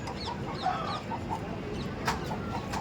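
A fighting rooster bred for cockfights clucks several times in short, close, moderately loud bursts over a steady outdoor background hum.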